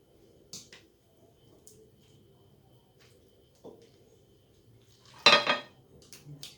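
Tagliatelle with smoked salmon is served onto plates, with a few light clinks of cutlery and dishes scattered across the stretch and a louder clatter near the end, against a quiet background.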